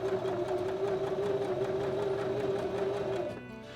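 Mechanical sewing machine running a straight stitch, a steady rapid whirring hum with fast needle rhythm for about three seconds before winding down and stopping.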